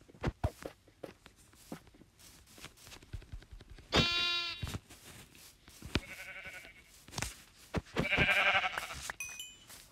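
Sheep in the Minecraft video game bleat several times in short wavering calls, mixed with blocky footstep sounds and a few soft game effects.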